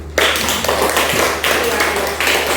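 A classroom of students claps in several short bursts of applause, with a faint murmur of voices around the clapping.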